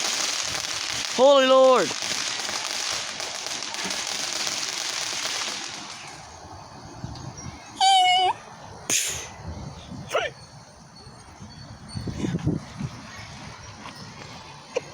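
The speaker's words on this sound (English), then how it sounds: "I do love looking at the fireworks." Fireworks bursting overhead at an outdoor display, several sharp crackling pops and booms spaced across the scene amid steady background hiss, with excited voices exclaiming between the blasts.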